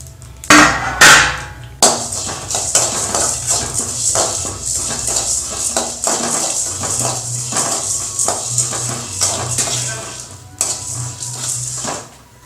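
Cumin seeds and black peppercorns dry-roast in a pan for kuzhambu masala powder, with repeated metallic clinks and scraping as a spoon stirs them, close and moderately loud, with irregular knocks throughout.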